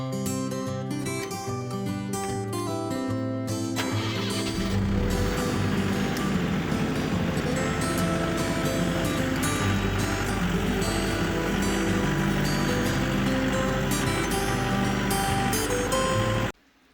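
An old Mahindra tractor drags logs and digs a 100-plus-yard ditch on a rural homestead, its engine droning loud and steady with clanking mechanical rattles, starting after a few seconds and running continuously until it cuts off abruptly.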